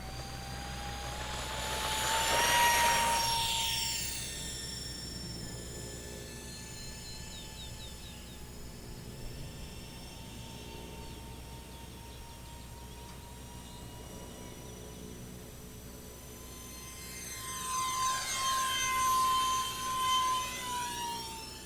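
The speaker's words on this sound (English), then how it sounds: "the high-pitched sound of those fans and motors is a bit much" High-pitched whine from the twin electric ducted fans of an E-Flite UMX Me262 model jet, steady and tonal, swelling loudly as the small plane passes near, fading, then rising again.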